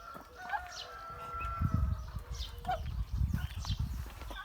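Repeated harsh, nasal quacking calls from a nearby mother Muscovy duck with ducklings, coming in short bursts amid farmyard rustling and low background noise.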